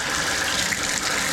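A shower runs hot water after a valve cartridge replacement, a continuous loud gushing spray without any break or voice.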